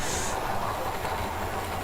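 A model train runs along its track in a garden shed, a steady close whir and hiss with faint mechanical rattle, continuous and even with no pauses, no speech heard.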